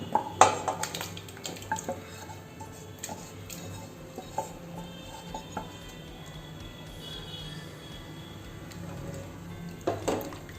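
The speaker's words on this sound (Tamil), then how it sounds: "இது நல்லா கலந்து விட்டுருங்க." Soft clinks and scrapes of a utensil stirring goat leg soup in a pot, with a low background hum and a few sharper knocks near the start and end.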